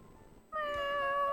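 A cat in the video game Fatal Twelve lets out one clear, sustained meow that starts abruptly after a quiet moment and holds steady, close and loud.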